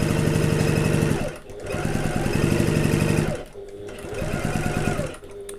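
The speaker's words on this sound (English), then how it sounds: "this one I am going to back stitch at the start and the end" A sewing machine back stitches at the start and end of a seam on a getaway bag, steady close mechanical whirring in runs broken by short pauses as the stitching reverses.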